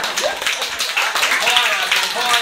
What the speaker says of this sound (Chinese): 好了，掌声鼓励。